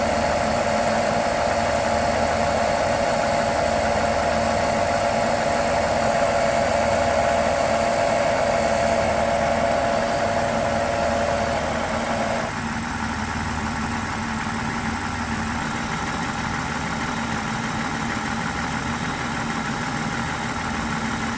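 A BMW engine idles steadily through a transmission fluid drain and fill, a constant mid-pitched hum with a faint whine that drops slightly in tone partway through, with no talk over it.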